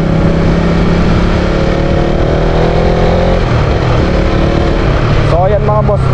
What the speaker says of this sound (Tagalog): So ayan mga boss, napaka smooth ng pasok kapag mag-gear tayo, no? Yun yung tinatawag na rev matching.